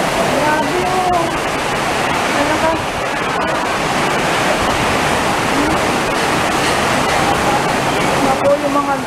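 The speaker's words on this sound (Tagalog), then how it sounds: "lakas ng ulan" Heavy rain pours in a dense, steady roar close by, with voices talking over the downpour.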